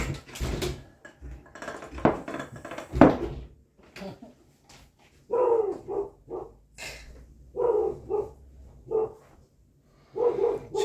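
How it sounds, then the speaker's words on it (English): A female dog barks at the wind in several short bursts, some close and loud, with pauses between, alongside clattering mechanical noises. "She's barking at the wind,"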